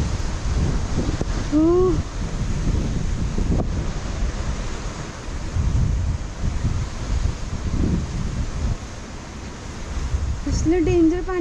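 Sea waves surge and crash into a narrow, deep rocky gorge on Bamanghal beach in the Konkan, a continuous loud roar with heavy spray and wind buffeting the microphone, while people exclaim and talk over it.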